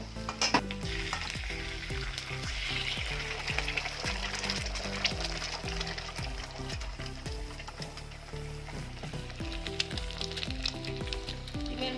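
An egg fries beside potatoes in a pan of leftover rice being cooked up, giving a steady crackling sizzle with frequent spatula scrapes and stirring clicks that stay close and constant.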